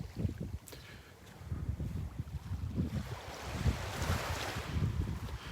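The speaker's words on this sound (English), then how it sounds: "Very, very breezy. I'm sure you can hear that wind." Steady breeze on Vanderbilt Beach buffets the microphone in rough, gusty rumbles, with faint surf hissing underneath. The wind is close and fairly loud, and nobody speaks.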